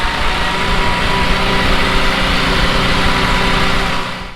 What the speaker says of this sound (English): check out that tractor right there